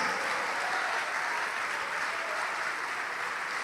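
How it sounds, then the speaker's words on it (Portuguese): Church congregation applauding at Pastor Juanribe Pagliarin's service, a thick, even wash of clapping from many hands, loud and sustained with no voices over it. "Venha, isso, vamos aplaudir mais, vem."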